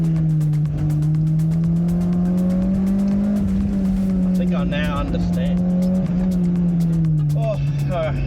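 A Honda car's engine revs hard and sustained toward an 8,500 RPM limiter on a mountain touge road, a loud steady drone rising and falling in pitch, with tire squeal and brief voice sounds around it.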